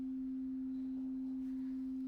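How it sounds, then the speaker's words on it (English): A steady, pure sine tone, center-panned between left and right speakers, produced through live coding software, holds at one constant pitch and level throughout with nothing else audible. "There's our center pan sine wave."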